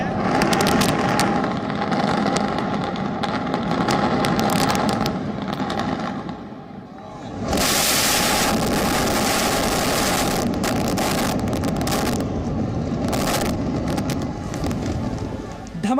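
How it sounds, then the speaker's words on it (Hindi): The Supertech twin towers in Noida come down in a demolition blast: rapid crackling detonations in a dense, loud volley, then a brief lull before a broad roaring rumble of collapse with continued crackles, voices mixed in. "धमाके के बाद ट्विन टावर गिरा।"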